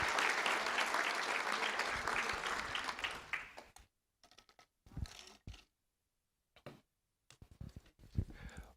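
Audience applause at a school district board of trustees meeting for students' parents, a loud full round of clapping for several seconds that cuts off abruptly, followed by sparse scattered claps and small sounds.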